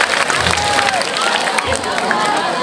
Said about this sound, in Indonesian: Oke, tepuk tangan untuk kawan-kawan semua